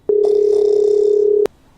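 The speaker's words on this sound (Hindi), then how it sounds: "रुको, मैं अभी कॉल करता हूँ।" Phone dialing tone in the GTA V video game: a single steady electronic tone lasting over a second, starting and ending with sharp clicks, loud and alone.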